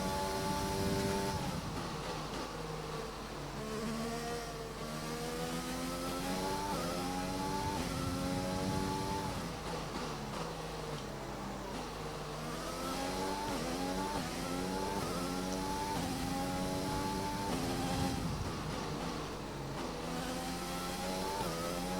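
Formula 1 race car engine in the F1 2020 video game, roaring steadily at high revs with repeated rising and falling pitch sweeps as it shifts through gears, loud and continuous throughout.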